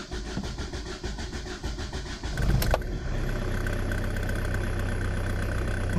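Diesel engine running with late injection timing: a rough, clattering crank and start, a sharp burst as it catches, then a steady, loud idle rumble.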